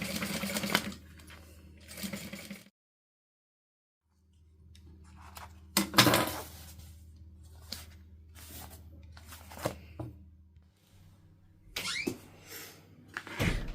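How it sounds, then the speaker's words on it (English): A sewing machine basting a hat lining at an eighth-inch seam runs in short, quiet bursts of rapid stitching, separated by pauses and small handling clicks and rustles. "when I'm attaching the lining, I am basting that lining on at 1/8 of an inch"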